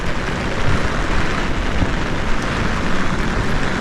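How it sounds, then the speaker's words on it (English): Steady rain falls across the Cairns Esplanade by the waterfront, a dense, even broadband hiss with low rumbling texture that continues without a break and has no talk over it. "So this rain will last for a little bit longer now."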